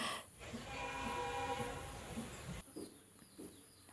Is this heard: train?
yes